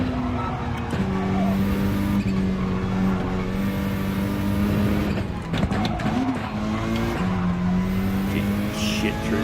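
A racing video game car engine drones steadily close up, its pitch rising and falling through gear changes and corners, with brief tire squeal and scrubbing over the continuous roar.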